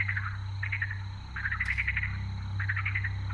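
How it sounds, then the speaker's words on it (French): Phantom toads croak in a video game swamp, their chirpy, trilling calls coming in repeated bursts over a steady low ambient hum, fairly close and clear, with no talking. "le bon marais avec les crapauds qui se matérialisent"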